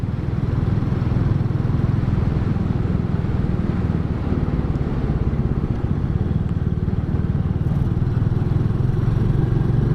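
Royal Enfield 350 Classic motorcycle being ridden through a corner, its single-cylinder engine thrumming steadily and loudly up close, with wind rush throughout and no pauses.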